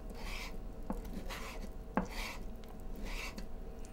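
Two slices of bacon chopped into small chunks with a knife on a cutting board: a few soft, scattered chops, one clearer thud in the middle, close and fairly quiet.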